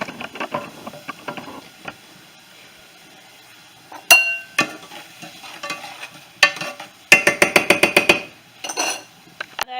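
Garlic and onion cooking in a pan for a seafood boil butter sauce, with a low sizzle underneath and bursts of clinking and scraping from a utensil stirring against the pan, louder in the second half.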